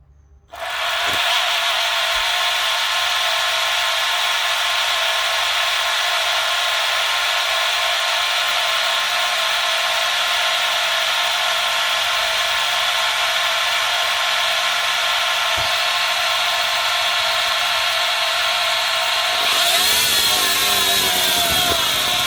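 Vacuum cleaner motor overloaded and burning up, a loud, steady high-pitched whine that starts abruptly and runs continuously before a final surge and shift in pitch near the end.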